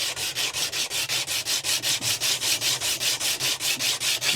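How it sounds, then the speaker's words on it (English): Belt sander grinding a part of a Fender acoustic guitar: a loud, rhythmic rasping, rapid regular pulses about five per second, close and steady with no talk. "we're going to use my belt sander, okay, to grind this off"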